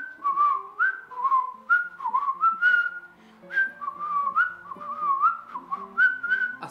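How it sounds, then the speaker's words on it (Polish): A person whistling with the lips alone, no fingers: a series of short, gliding, tuneful notes in quick succession, close and clear against a quiet background, with no talking. "Bez palców umiem tak. Powiedzmy w miarę gwizdać."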